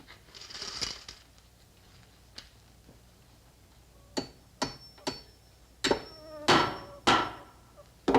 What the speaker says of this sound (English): A hammer to hammer nails.